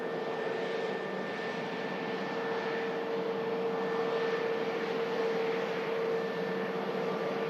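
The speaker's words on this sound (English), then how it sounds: "Taxiing in, and next to land will be the 2XL aircraft" A jet airliner taxis at Manchester Airport, giving a steady, even engine whine and broadband roar with a constant tonal hum, heard from a moderate distance with no talking.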